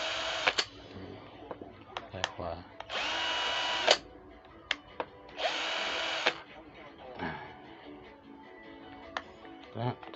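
A cordless drill whirs in two short bursts of about a second each, with clicks and handling knocks between them, close up.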